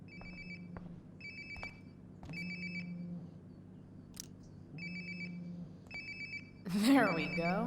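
Phone ringtone from Life is Strange: Before the Storm, a repeated bright electronic trill in short bursts about every 1.5 seconds over a low game ambience, ending in a swelling musical sting.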